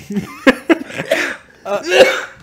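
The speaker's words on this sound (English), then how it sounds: "Are you done coughing?" A person coughs several times in quick, harsh bursts, with a short pause before a final cluster of coughs close to the listener.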